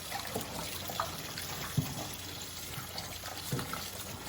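Salted cabbage being rinsed in water for homemade kimchi, with steady sloshing, trickling and dribbling and a few soft splashes and knocks, close by with no talking.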